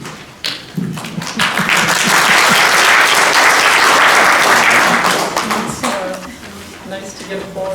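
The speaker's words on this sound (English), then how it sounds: "Nice to get applause before you speak." Audience applause fills a hall as a speaker is introduced at a human trafficking awareness event, a broad steady wash of clapping that swells, holds for several seconds and then tapers, with some speech-like sounds mixed in.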